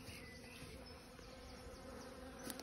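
Honey bee swarm gathered at a bait hive on a May morning, a faint, steady, continuous buzzing hum from many bees, with no voices.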